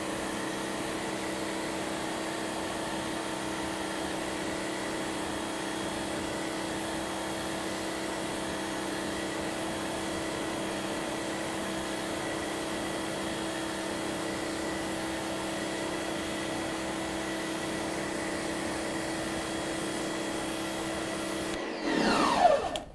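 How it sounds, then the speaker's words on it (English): Water sprays steadily to rinse wheel cleaner off car wheels, a continuous broad hiss lasting about twenty seconds and ending in a brief louder splash, with no talking. "So I'll rinse this completely off now."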